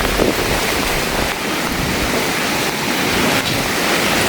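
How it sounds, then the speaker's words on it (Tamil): Strong wind roars steadily across flooded banana farmland, a loud, unbroken rushing blast buffeting the microphone for several seconds with no talk over it. "பாருங்க அடிக்குது காத்து"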